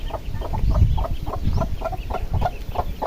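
A hen and her chicks in a bucket, clucking in rapid repeated bursts, close and busy, with soft rustling underneath and no clear speech.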